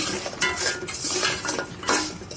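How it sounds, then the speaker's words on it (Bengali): A snack is stirred in hot sugar syrup, with a spoon scraping and clinking against the pan in a few uneven strokes over a low, bubbling hiss. "এই তো শিরাতে নেড়ে চেড়ে নিচ্ছি।"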